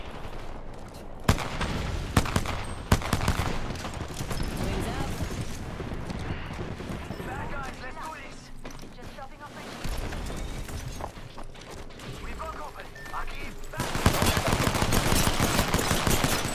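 Gunfire in the battle-royale shooter Apex Legends, with repeated bursts and single shots cracking out across sixteen seconds, some rapid automatic runs, mixed with game noise and player voices talking.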